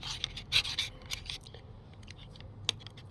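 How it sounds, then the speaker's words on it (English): A hand paint scraper scrapes old paint off a wooden bed frame in short, quick rasping strokes, close and fairly quiet, with irregular gaps between strokes. "scrape the paint off"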